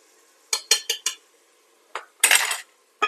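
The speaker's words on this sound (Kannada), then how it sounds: "½ ಟೇಬಲ್ ಸ್ಪೂನ್ ಅಷ್ಟು ಅರಿಶಿನವನ್ನು ಹಾಕ್ತಾ ಇದ್ದೀನಿ." A metal spoon clinks sharply against a pan several times in quick bursts, then scrapes briefly, while turmeric is added for tomato bath; close, loud, with short pauses between strikes.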